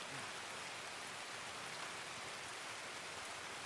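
Steady rain hisses down during a storm in Escape from Tarkov, a continuous, even wash of drops on surfaces with no other sounds breaking through.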